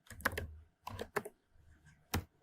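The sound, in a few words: typing code on a computer keyboard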